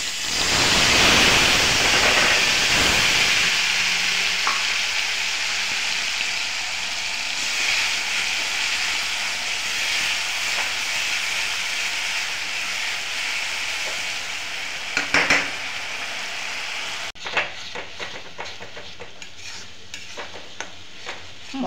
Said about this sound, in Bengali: মশলাটা দিয়ে কিছু সময় কষিয়ে নেব, যতক্ষণ পর্যন্ত মশলাটা কষে তেল না বেরিয়ে আসছে